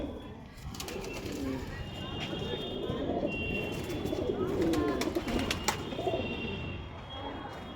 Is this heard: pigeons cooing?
yes